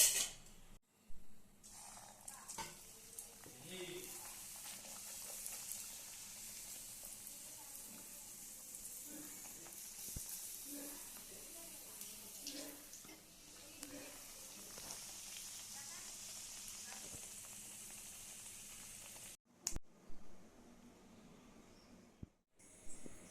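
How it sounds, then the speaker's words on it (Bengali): Moong dal kachori frying one by one in hot white oil in a wok: a steady, close sizzle and crackle runs almost without a break, then cuts out briefly near the end. "এইবার কড়াইতে সাদা তেল দিয়ে বেশ খানিকক্ষণ গরম হওয়ার পর কচুরিগুলো এক এক করে ভেজে নেব"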